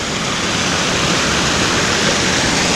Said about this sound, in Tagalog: Parang falls siya, hindi ko lang sure o kung may ilog man dun sa may taas, pero parang falls, parang galing sa bukal.